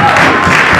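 A church congregation bursts into loud applause and cheering, a dense close burst of clapping and voices filling the whole short moment.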